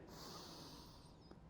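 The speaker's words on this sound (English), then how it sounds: "And big breath in." A person draws one deep breath in through the nose, a soft, airy hiss lasting over a second, close but very quiet.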